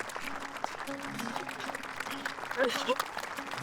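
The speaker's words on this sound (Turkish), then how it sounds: "Alkışlarla." A crowd applauding steadily for the winner of a folk song (türkü) contest, dense clapping throughout with voices calling out over it.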